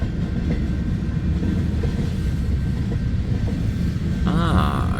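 A freight train rolls past with Wisconsin Central cars in the consist, a steady close rumble and rattle of rail cars throughout, with a brief squeal of wheels near the end.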